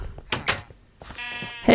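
Sheep bleat close by in a few short, sharp calls, one drawn out near the end, with some shuffling and brief quiet gaps between them.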